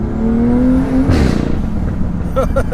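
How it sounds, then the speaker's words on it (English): Big-turbo N55 engine in a BMW M2 building boost under hard acceleration, with a rising whistle over the engine's roar, then a sharp whooshing surge and a few fluttering chirps as boost releases, heard close from inside the car. "And you got that nice whistle from the front"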